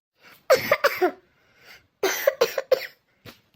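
A cartoon village woman who is unwell coughs in two quick clusters of harsh, close coughs, with short pauses between the bursts.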